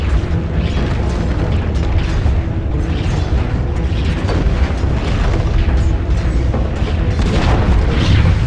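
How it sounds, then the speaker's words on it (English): Deep, continuous booms and rumbling crashes as the Dire top tower is destroyed in a Dota 2 esports match, loud and dense throughout with no pause. "Dire's top tower has fallen."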